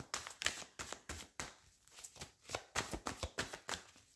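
A deck of cards being handled as a card is drawn, giving a quick run of soft snapping and riffling flicks in irregular bursts, quiet and near.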